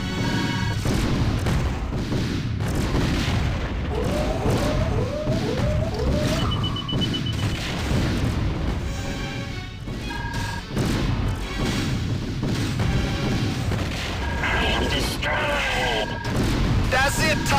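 Missile explosions and weapons fire in a space starfighter game, a dense, continuous barrage of booms, crashes and rapid shots, with chirping electronic tones mixed through the fighting.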